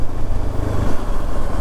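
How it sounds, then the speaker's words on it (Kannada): A Hero XPulse 210 motorcycle engine runs loud and close, a steady throbbing drone with a rapid low pulse, the bike cruising smoothly in fifth gear with no voices over it. "ಇಂಜಿನ್ ಸೌಂಡ್ ಹಂಗೆ ಬರ್ತಿದೆ ಗುರು."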